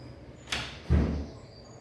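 A built-in Candy microwave door swinging open or shut indoors, a light click followed by a louder soft thump, heard close and alone.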